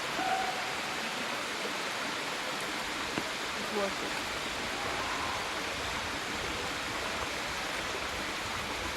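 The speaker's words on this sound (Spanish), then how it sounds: "encontrar esta caída de agua rodeada de vegetación" Water pours steadily from a small waterfall surrounded by vegetation on the North Kaibab trail in the Grand Canyon, a constant broadband rush that is loud and fairly close throughout.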